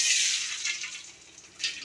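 A little water pours into a cooking pan to start sugar syrup for laddus, a short bright splash and trickle that swells, fades and briefly rises again near its end.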